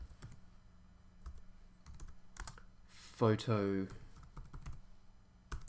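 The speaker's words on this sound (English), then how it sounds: "Okay, so if I just type in" Typing on a computer keyboard, light scattered key clicks up close with a brief spoken word partway through.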